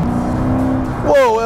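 A Ferrari F40 drives past on the streets of Monterey, its steady engine drone climbing into a sharp rising rev near the end, loud and close, with a voice over it.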